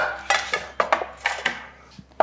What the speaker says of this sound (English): I'm gonna add the panko right to the flour. So I'm just gonna mix this panko right in